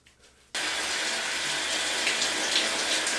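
Cold water suddenly gushes from a tap or shower after a brief quiet moment, then pours in a steady, loud, close spray that continues unbroken to the end.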